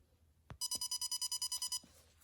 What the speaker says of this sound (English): a little paw has touched it one time, and it makes a beeping sound